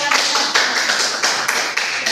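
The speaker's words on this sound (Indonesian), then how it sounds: "tepuk 5, tepuk 3, tepuk 5. Ya, tepuk tangan" Group hand clapping in a classroom-style positive-culture session, a brisk, loud run of sharp claps in an even counted rhythm, close and continuous.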